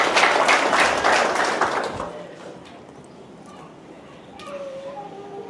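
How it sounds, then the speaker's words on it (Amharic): Congregation at a church service clapping in praise of the Lord; a brief dense burst of clapping lasts about two seconds, then dies away into quiet room noise with faint voices. "አጨብጭቡ ለጌታ ክብር ባካችሁ።"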